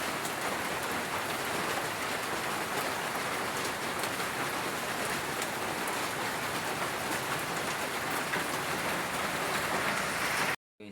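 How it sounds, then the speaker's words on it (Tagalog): Heavy tropical downpour drumming steadily and loudly on a roof near a pig pen and banana trees, a dense unbroken hiss that cuts off abruptly at the end. "Napakaulan pa po naman dito. Sobra po lakas ng ulan."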